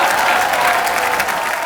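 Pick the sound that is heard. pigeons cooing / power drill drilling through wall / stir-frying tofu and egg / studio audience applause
studio audience applause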